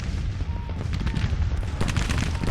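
Cannon fire on a Grand Tactician: The Civil War battlefield, a dense, continuous low rumble of massed guns with sharper cracks breaking through near the end, steady and loud throughout with no talk.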